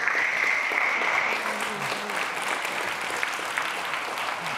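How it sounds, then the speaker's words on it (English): A conference audience at a React developer talk breaks into a round of applause, dense clapping throughout while a voice speaks briefly over the start and the clapping gradually thins. "I feel like just that deserves a round of applause."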